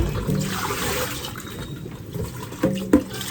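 Cassava root is washed in water, with soft sloshing and trickling followed by a couple of sharper splashes near the end, close by and with no talking.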